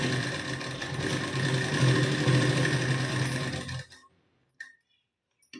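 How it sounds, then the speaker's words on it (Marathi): A sewing machine runs steadily while stitching diagonal back tucks on a blouse, a loud continuous whir for nearly four seconds before it stops, followed by a couple of faint clicks. "या तिरप्या लाईनवर शिलाई देऊन घेऊ आपण"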